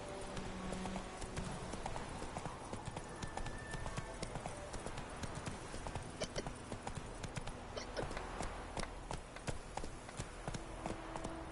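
Roach, the horse in The Witcher 3, gallops with quick, rhythmic hoofbeats pounding steadily and close for the whole stretch, with faint game ambience behind.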